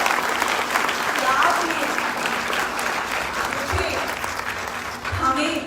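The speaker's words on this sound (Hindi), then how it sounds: "सबसे पहले आप आज अपने आप के लिए ताली बजाएं" A seminar audience claps loudly and steadily throughout, a dense sustained applause, while a presenter speaks briefly over it near the end.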